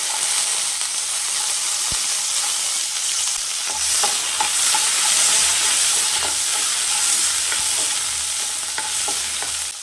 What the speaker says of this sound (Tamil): சின்ன வெங்காயம் சேர்த்துக்கலாம், கூட எண்ணெய் சேர்த்துக்கலாம்.